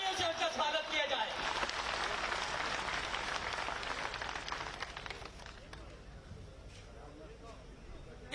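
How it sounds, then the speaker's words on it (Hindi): Loud applause welcoming Rajnath Singh at a political rally on stage in Basohli, dense steady clapping that gradually fades toward the end. "जोरदार तालियों से उनका स्वागत किया जाए"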